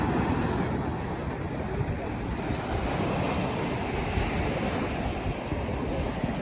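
Morning sea waves at Alappuzha beach roll in a steady, continuous surf wash, with some wind buffeting the microphone and no voices.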